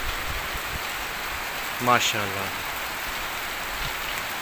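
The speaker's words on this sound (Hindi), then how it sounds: "तो बारिश जी स्टार्ट हो गई है" Steady rain falls outdoors during a barbecue, a dense, even hiss of drops, while a man's brief exclamation rises over it midway.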